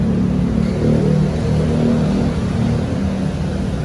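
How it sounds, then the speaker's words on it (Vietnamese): Steady traffic on Sukhumvit Road in Bangkok, with buses and taxis passing beneath an elevated train line, makes a continuous close engine rumble and whoosh of passing vehicles. "Xe buýt chạy dưới, taxi chạy dưới"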